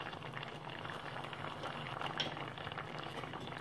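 Fish curry with coconut milk simmering in a pot, a soft, steady bubbling hiss at low volume, continuous and close with no voices.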